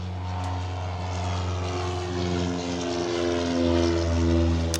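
A propeller aircraft drones overhead with a steady, harmonic engine hum. It swells slightly louder toward the end, with no voices.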